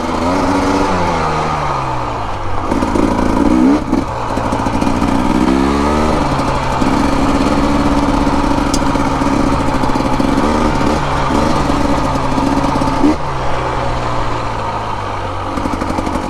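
A 2025 Husqvarna TE250 dirt bike rides a rocky, loose desert trail. Its engine is loud and close throughout, with the throttle repeatedly blipping and rising and falling as it climbs over the rough ground.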